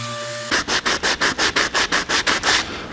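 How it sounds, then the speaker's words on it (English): Old telephone cabinet wood is hand-sanded with 80 grit sandpaper in about eleven quick, even back-and-forth rasping strokes, close and fairly loud, after a brief moment of quiet hum. "I've started to sand some of the pieces, and we'll continue to sand. I'm doing 80 grit now"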